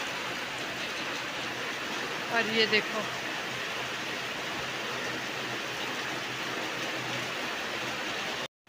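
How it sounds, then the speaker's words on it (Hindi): Heavy monsoon rain pours thickly off a roof in hilly Himachal, a dense unbroken hiss close by, with someone speaking briefly over it. "अब आप समझ ही सकते हो कितनी तेज़ बारिश हो रही है।"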